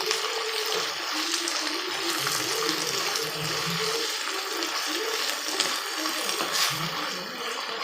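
Moringa leaves sautéing in a pan for a stir-fry, giving a steady, close sizzle with a broad wet hiss and occasional stirring scrapes, continuous throughout without talk.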